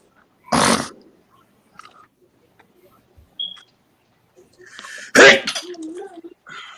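Two sharp sneezes from a man, one early and a louder one a few seconds later, each a short burst amid otherwise quiet surroundings with a few small noises and brief talk.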